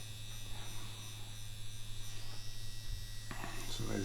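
Yilong F5 wireless tattoo pen machine running steadily, a continuous close electric buzz with a low hum underneath and a slight change in tone near the end.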